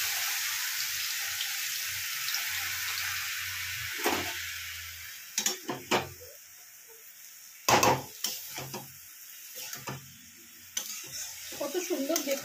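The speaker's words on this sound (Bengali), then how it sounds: "এখানে একটুখানি আমি জলের ছিটে দিয়ে দেবো, বেশি জল দেবো না।" A small splash of water goes into potatoes and onions cooking in a pan. Steady sizzling comes with bursts of hissing and scraping stirs, close and fairly loud, then settles into a lighter bubbling fry.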